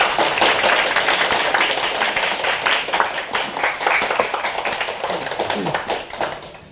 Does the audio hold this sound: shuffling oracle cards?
no